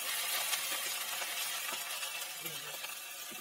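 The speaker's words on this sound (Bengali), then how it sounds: "সমস্ত কিছু একটু ভালো করে ভেজে নেব আদা রসুনের কাঁচা গন্ধ চলে যাওয়া পর্যন্ত" Onion, green chillies and ginger-garlic paste frying in a pan, a steady close hiss of sizzling oil with faint stirring scrapes underneath.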